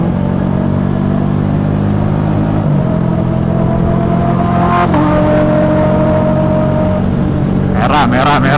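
A Honda Supra motorcycle engine revs and drones loudly through the whole stretch, steady rumbling with pitch shifts, while voices chatter over it.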